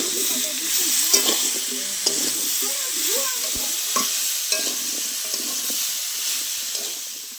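Pumpkin curry with sugar and slit green chillies is stirred in a hot frying pan, giving a loud, steady sizzle with repeated scraping strokes of the spoon over it.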